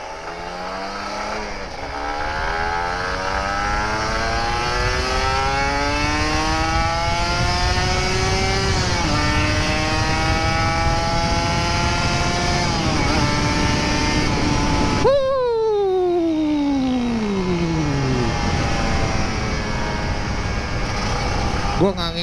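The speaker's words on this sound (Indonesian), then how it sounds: "Sekalian ngegas juga." A Kawasaki Ninja RR 150 motorcycle engine revs loud and close, its pitch climbing and dropping through repeated throttle sweeps. A sharp break comes before a final long descending whine.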